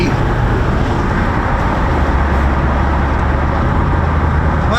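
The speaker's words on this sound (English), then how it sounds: "I broke the tires loose just coming off the line right there." Big V8 engine in a Jeep Wrangler JL or Gladiator roars hard under full acceleration off the line, a loud, steady, dense rumble filling the whole stretch with no pauses.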